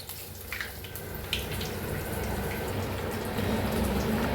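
Bread pakoda frying in hot oil gives a steady, dense sizzling hiss that holds close and constant throughout, growing slightly fuller near the end.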